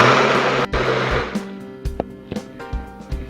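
A countertop blender whirs loudly while blending a mango smoothie, the motor's steady roar broken by short clunks and pauses as the jar is worked.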